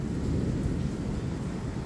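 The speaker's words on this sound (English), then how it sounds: "Wow, the rain's calming down a little." Steady rain from a heavy thunderstorm after months without rain, a dense low rumbling wash that stays loud and even throughout with no voices.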